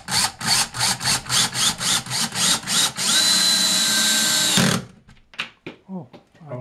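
A power drill whirs in about ten short repeated bursts while drilling a hole for a kitchen shelf, then runs continuously for a couple of seconds before stopping; brief voices follow.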